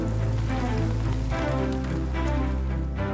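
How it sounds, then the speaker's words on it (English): Steady rain falls on a surface, a dense, even patter of drops that fills the whole stretch without pause. "Rain, the source of Earth's fresh water and essential to life."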